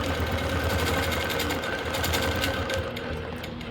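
A longarm quilting machine stitching a paper-pieced medallion quilt with rulers, giving a loud, continuous rapid mechanical hum and clatter close by, with no talking.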